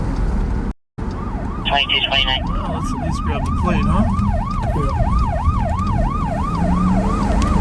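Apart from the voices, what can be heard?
police car siren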